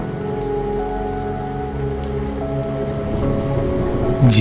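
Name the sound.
drizzling rain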